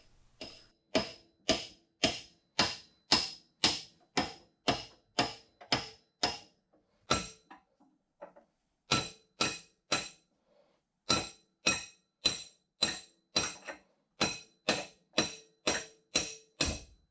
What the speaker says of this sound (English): I'm just using a piece of copper pipe, although I don't think it's going to be long enough, and just kind of hammering it out